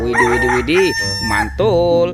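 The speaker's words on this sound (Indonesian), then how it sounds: "ini ada ayam berkokok." A rooster crows in drawn-out, rising-and-falling calls, loud and close, heard twice within about two seconds, with excited voices exclaiming alongside.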